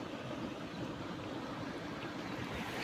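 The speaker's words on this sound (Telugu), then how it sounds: "ఇక్కడ చూడండి వాటర్ ఫ్లో అనేది ఏ విధంగా భయంకర" A continuous, dense roar of rushing water, steady and unbroken, as Srisailam reservoir water pours in a strong flow over a pond spillway nearby.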